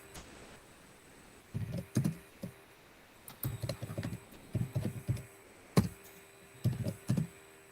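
Computer keyboard typing while writing R code, bursts of close, clattery keystrokes separated by short pauses, with no talking.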